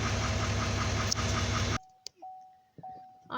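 The L5P Duramax diesel in a 2018 GMC Sierra 3500 idles with a loud, dense rumble that cuts off abruptly, leaving a near-silent garage with a few faint clicks and tones.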